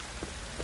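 Steady rain falls in a downpour in the video game The Witcher: Wild Hunt, a thick, even wash of drops drumming on surfaces, brief and loud with nothing else audible.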